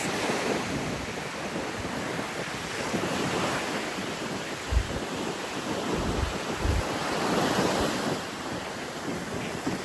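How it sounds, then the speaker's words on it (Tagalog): Strong sea waves surge and crash continuously at Dagupan, a broad steady wash of surf with a few deeper thumps, heard alone without talk. "Sobra kalakas yung dagat."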